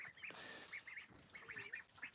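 Ducks quack in a backyard flock of chickens and ducks far in the north of Canada, a string of short nasal calls coming in clusters at moderate distance with no talking over them.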